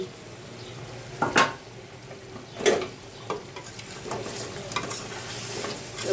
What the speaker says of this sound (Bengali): এবার মাছটা একটু নাড়াচড়া দিয়ে দেখি